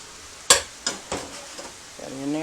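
Fried cabbage with sausage and bacon stirred in a pan, a few distinct scraping strokes with soft sizzling beneath, followed by a brief voice at the end.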